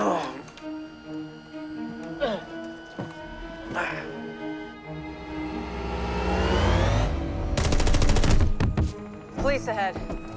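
Gunfire in a Westworld scene, set against an orchestral score, with a rapid burst of shots near the end and sharp hits earlier, while voices speak over the music.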